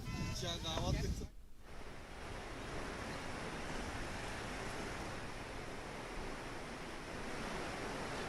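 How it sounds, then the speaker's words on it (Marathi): Water released from Khadakwasla dam near Pune during heavy monsoon rain, heard from below the dam wall: a continuous loud roar of gushing water, preceded by a brief voice at the start. "आपण बघू शकतो पाणी सोडलेलं आहे"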